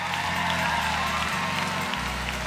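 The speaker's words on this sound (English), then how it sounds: "Come on, clap your hands for him." Church congregation applauding and cheering in a steady, dense wash of clapping, with organ or keyboard chords sustained underneath throughout.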